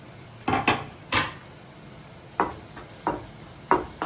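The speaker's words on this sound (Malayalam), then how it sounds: "നെയ്യിട്ട ശേഷം ഈ ചൂടാവട്ടെ. കാഷ്നട്ട് കുറച്ച് ചെറുതായിട്ട് അരിഞ്ഞതാണ്." Chopped cashews sizzle in hot ghee in a pan, with several distinct stirring scrapes and clinks rising over a faint steady crackle, close and fairly quiet.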